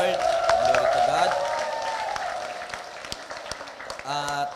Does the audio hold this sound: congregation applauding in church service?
yes